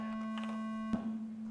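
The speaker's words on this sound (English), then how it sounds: "And we're still on our sine wave." A steady, pure electronic sine wave tone hums continuously with a faint buzzy edge, interrupted by a short click near the middle.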